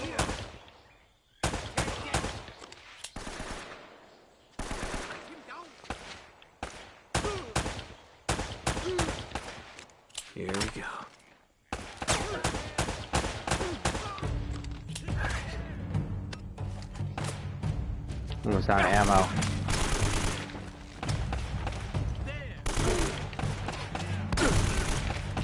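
Enemy shotgun fire in the action game Uncharted 1 comes as repeated sharp blasts and bursts, scattered irregularly and then packing into a dense, continuous barrage of shots near the end.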